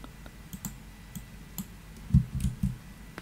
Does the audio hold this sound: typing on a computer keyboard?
yes